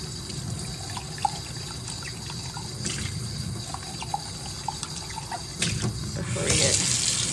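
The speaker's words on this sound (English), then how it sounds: "Let me rinse this off." Water runs steadily from a stainless steel sink faucet as dyed fabric is rinsed under it, a soft continuous splash and trickle that grows louder near the end, with faint talk in the background.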